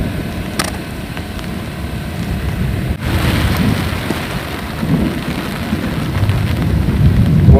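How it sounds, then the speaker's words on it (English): Heavy wet-season downpour in the far north Kimberley outback, steady dense rain drumming close by with a sharp thunder crack near the start and rolling rumbles underneath, no voices. "She was absolutely pouring down, lightning everywhere."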